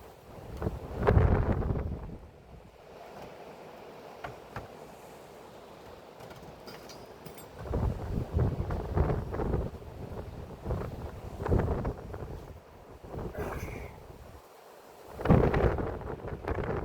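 Gusty wind blows outdoors during a solar panel installation, buffeting the microphone in repeated low rumbling bursts that swell and fade, loudest near the start, middle and end.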